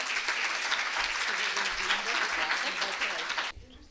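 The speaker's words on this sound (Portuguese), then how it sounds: "Uma salva de palmas." A crowd at a multiple sclerosis symposium claps in sustained, dense applause for several seconds, then it abruptly stops, leaving a quiet room.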